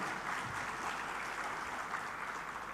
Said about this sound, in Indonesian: Sementara itu, boleh tepuk tangan?